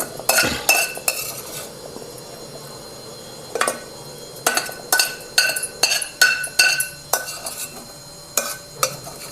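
Stone mortar being worked by hand to grind tomato chutney in a home kitchen, with sharp clinking and scraping knocks in irregular bursts, close and fairly loud, no talking.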